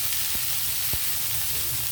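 Cauliflower pieces frying in a pan of hot oil for a cauliflower and coconut stir-fry, giving a steady, dense sizzle throughout with a couple of faint soft knocks from the pan.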